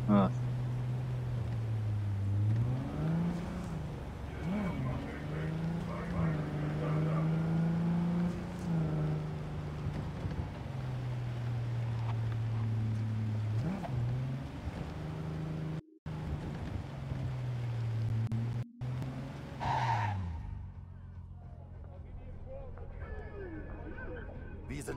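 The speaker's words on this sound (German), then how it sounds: "Warte hier auf mich und lass den Motor laufen." A car's engine is left idling in the video game Cyberpunk 2077 on Xbox One, a steady low hum that runs throughout with small shifts in pitch, while voices speak over it at times.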